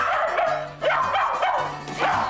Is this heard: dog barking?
yes